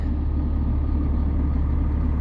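Farm truck passing a field where a tractor works, heard as a steady, fairly loud low engine rumble that holds evenly for a couple of seconds with no voices.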